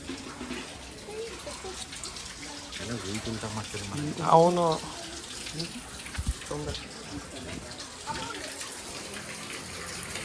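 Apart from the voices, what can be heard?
water flowing continuously from Bhagiratha Teertha temple spring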